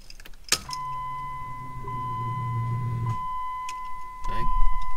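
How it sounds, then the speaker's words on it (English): A car's electric fuel pump whines as a steady, thin tone during attempts to start the engine, with clicks, a brief rattle and a low buzz underneath, ending in rising rumble. "Okay, I think I hear the fuel pump."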